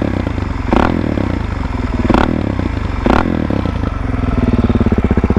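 A dirt bike engine with an FMF aftermarket exhaust barks loudly up close, with three sharp revs over a choppy, rattling idle.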